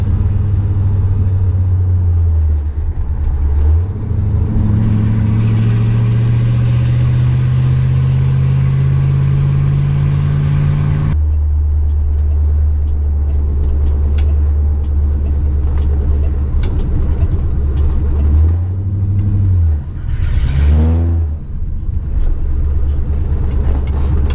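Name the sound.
restored 1964 Ford Galaxie 500 driving down road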